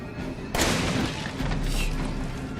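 Gunfire in a Resident Evil video game: a sudden heavy blast cuts in and rumbles on, washing into a dense, loud roar of continued firing and echo.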